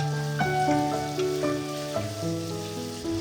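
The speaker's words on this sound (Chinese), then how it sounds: "将调料翻炒均匀" Chicken thigh pieces stir-fried in a wok with light and dark soy sauce and oyster sauce, a steady close sizzle with occasional stirring scrapes over background music.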